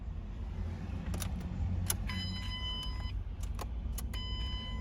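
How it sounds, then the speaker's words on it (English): A Ford Mustang's smart junction box gives off brief electronic chirps and tonal beeps when the key is turned to crank, two short bursts of steady tones over a constant low hum, close up with no voices. "when you go to crank it, you get a sound from the smart junction box"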